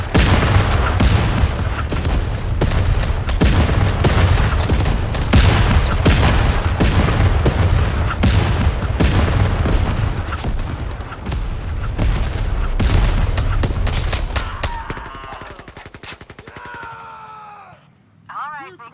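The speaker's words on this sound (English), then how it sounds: "Incoming artillery." Artillery fire and dense battlefield gunfire in the Zero Caliber VR shooter game, loud overlapping booms and shots that thin out near the end, with voices speaking over them.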